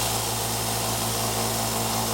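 Belt sander grinding a knife blade on a 400 grit belt, a continuous loud abrasive hiss over a steady motor hum, without speech.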